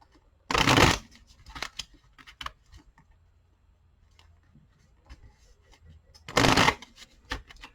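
Two quick bursts of tarot cards being shuffled, close and loud, separated by softer handling clicks and taps of the deck.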